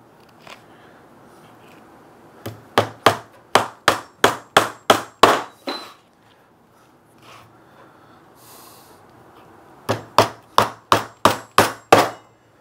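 A hammer striking timber in two quick runs of sharp, evenly spaced blows, about eight then seven, loud and close, with a quiet pause between, while building a native bee box.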